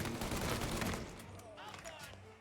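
A quick volley of video game gunfire opens loud and crowded, then thins into scattered shots as a voice talks over it.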